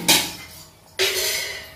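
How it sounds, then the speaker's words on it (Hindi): A metal lid settles onto a cooking pot of potato chana curry with two short clanks about a second apart, each fading into a faint ringing tail. "ढक्कन से ढक देते हैं"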